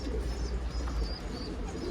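Soft pigeon cooing from a runaway pigeon caught in a coop area, a low murmuring coo running steadily through the two seconds against a dense, close background hum, with no talking.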